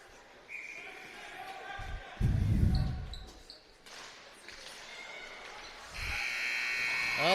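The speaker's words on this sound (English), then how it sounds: "The buzzer sounds" A loud electronic buzzer blares twice in a youth hockey arena at the end of the game, over crowd noise and thumping sounds.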